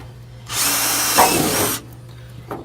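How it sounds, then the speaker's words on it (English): A power drill bores clearance holes in a Nissan Skyline's body panel to fit Dmax over fenders, one loud close burst of about a second and a half of whining, then a short tap afterward, no voices. "I'm just drilling out the clearance holes right now."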